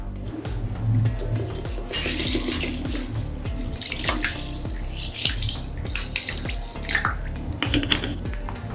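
Rice is swished and rinsed in water, with sloshing, splashing and occasional clinks of a vessel, close and fairly loud.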